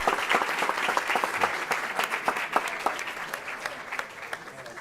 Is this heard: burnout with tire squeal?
no